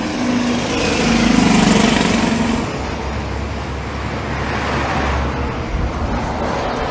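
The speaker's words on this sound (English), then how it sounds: "I'll let you enjoy some of the traffic as you're walking here with me" Steady road traffic rolls past on Highway 7 near Rockley Beach, with a vehicle engine swelling loud and close before easing into a continuous roadway rumble.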